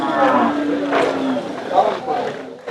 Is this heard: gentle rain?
no